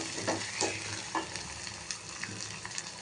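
Ginger garlic paste fries in oil in a pan for bajji masala pulusu: a moderate, continuous sizzle broken by a few spoon scrapes and taps against the pan.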